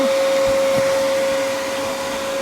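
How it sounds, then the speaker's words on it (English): A small vacuum cleaner runs steadily up close during jewelry making, a loud continuous whir with a fixed high whine over a low rumble. "Quick little vacuum."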